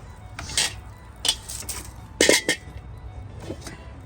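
Several sharp metallic clanks and clinks of a frying pan and cookware being handled and set down on the stove, spaced irregularly, close by with a quiet room behind.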